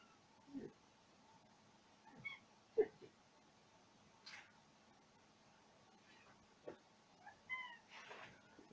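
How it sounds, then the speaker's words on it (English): A house cat meows repeatedly to be let in, several short separate calls at moderate distance with quiet gaps, over a faint steady background hum. "Just my cat wanted to come in."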